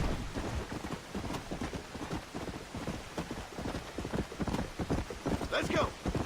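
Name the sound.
horse hooves while riding, video game Red Dead Redemption Undead Nightmare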